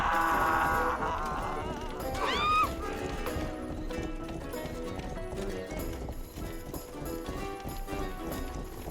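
Horse hooves clip-clop steadily while riding in the medieval video game Rustler, with a brief whinny early on, set against busy game music and ambient sound.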